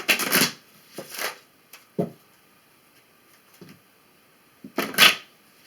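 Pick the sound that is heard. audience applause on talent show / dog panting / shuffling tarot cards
shuffling tarot cards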